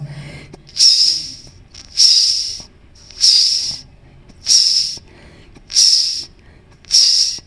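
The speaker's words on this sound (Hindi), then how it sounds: "देखिए घुंघरू की चलने की आवाज़" Rhythmic bright jingling bursts, six in a row at steady intervals, like ankle bells shaken with each step, fairly close with quiet gaps between.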